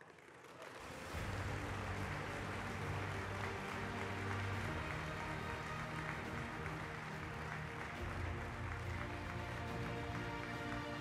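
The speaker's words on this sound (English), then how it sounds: "please give a warm round of applause to IPC President Andrew Parsons and Allianz SE's Global Partnership Manager" Audience at an awards ceremony for Paralympic sport and media applauding as speakers are welcomed, a sustained dense wash of clapping that builds within the first second and continues evenly at a distance, faint overall.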